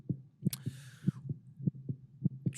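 A steady heartbeat sound effect thumps in low, evenly spaced double beats, with a brief whooshing swell partway through.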